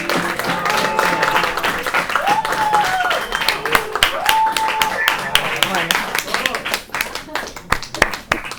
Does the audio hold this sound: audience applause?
yes